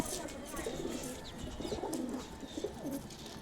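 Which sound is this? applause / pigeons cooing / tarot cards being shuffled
pigeons cooing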